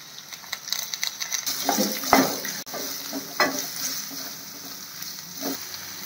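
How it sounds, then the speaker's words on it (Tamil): Curry leaves sizzle and crackle in a hot pan while a spoon scrapes and stirs, with occasional clinks of metal against the pan. "அண்ட் கரி லீவ்ஸ், இதெல்லாம் நல்லா வதக்கிக்கலாம்"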